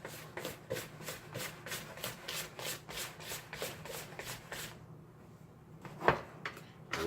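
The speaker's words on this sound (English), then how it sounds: "Scrape our sides one time." A spatula scrapes the sides of a mixing bowl of pound cake batter in a run of repeated rubbing strokes, close and steady, then stops with a quieter gap and a couple of final knocks.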